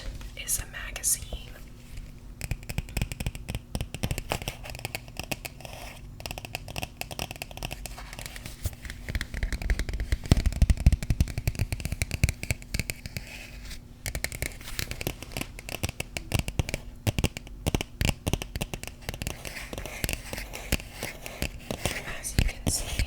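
Hands handling and flipping through a Rolling Stone special collector's edition magazine: close, soft crinkling, rubbing and page rustles in irregular bursts, with whispered talk throughout.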